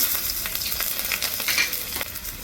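Bay leaf, cumin and radhuni spices sizzling in hot oil for a fish and bean-leaf curry, a steady close crackling fry with bright spitting pops throughout.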